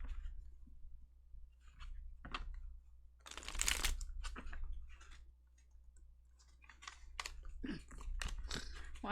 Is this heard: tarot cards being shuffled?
yes